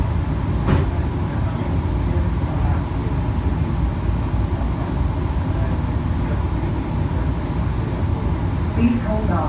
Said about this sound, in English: This train is departing for Terminal 3.